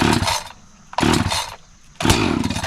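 A vintage small engine being cranked as it tries to start: three loud, close bursts of rough mechanical chugging, each lasting about half a second, separated by short gaps, with no voices.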